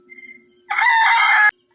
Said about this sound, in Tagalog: at sa tilaok ng kanyang manok